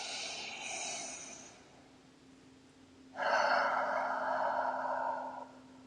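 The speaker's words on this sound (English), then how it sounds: "take a deep breath in and out" A deep breath drawn in and let out, two long airy breaths close to the mic, the first softer, the second a fuller, louder exhale lasting about two seconds, with a faint steady hum underneath.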